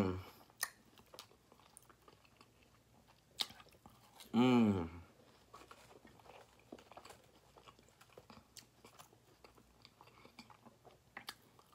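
Close-up chewing of seasoned fries dipped in spicy sauce, soft wet mastication and small crunches running throughout, with one brief louder burst midway and no talking.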